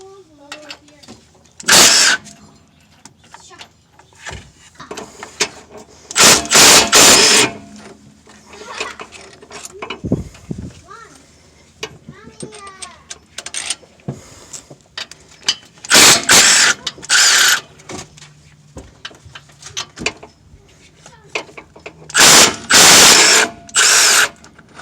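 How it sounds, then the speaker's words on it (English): A ratchet wrench loosens 16 mm bolts on a Chevy Tahoe differential, coming in several short bursts of rapid, loud clicking, with quieter metallic handling noises and someone talking between them. "So we'll go ahead and take these 4 bolts off."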